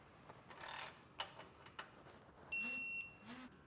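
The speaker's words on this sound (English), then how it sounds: "You want to come back with a torque wrench now and make sure all the hardware is tightened down" A torque wrench ratchets on trailer hitch hardware on a 2024 Jeep Wrangler, a few quiet clicking bursts followed by a short high electronic tone from the wrench, close by with no speech.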